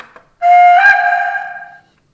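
A short, sharp toot sounds from a 1:32 scale Prussian T3 (BR 89.70) model steam locomotive's whistle, one loud blast of about a second and a half that rises slightly in pitch and then cuts off.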